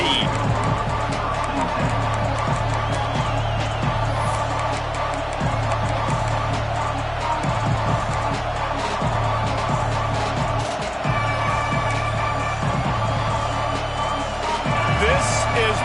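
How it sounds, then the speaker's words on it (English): A large stadium crowd at a Texas A&M football game keeps up a steady, loud roar of cheering with a few sharp whoops, continuous for the full stretch, while a commentator's voice runs over it. "This crowd ready to make its presence known."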